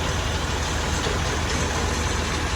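A lorry's heavy engine drones steadily from inside the moving cab, a loud, continuous low rumble with no talking.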